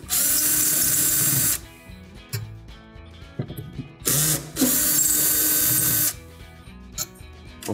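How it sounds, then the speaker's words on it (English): A power screwdriver backs out the two T15 screws holding a Viking cooktop burner base, giving two loud, sustained whirring bursts separated by a pause with light clicks and handling noise, close up and alone. "then we'll remove the 2 T15 screws that secure the actual burner base"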